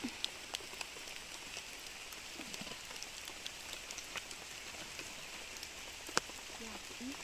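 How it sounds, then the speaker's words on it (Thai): Steady rain falls on a misty mountain trail at Khao Luang in Sukhothai, a dense, even hiss close around, with sharper drips and patters popping through now and then. "อันนี้คือฝนตกนะคะ"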